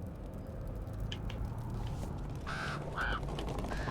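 Crows caw a few times in Dragon Age: The Veilguard, two short harsh calls standing out against a steady low ambient drone, moderately distant, with no speech.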